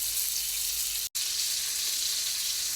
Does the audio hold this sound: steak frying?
yes